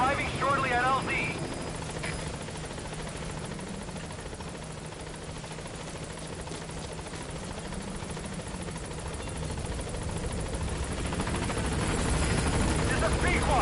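B-Quad transport helicopter from Metal Gear Solid V arriving at a landing zone, a steady loud rotor drone and engine whine throughout, swelling slightly toward the end, with a brief radio voice at the start.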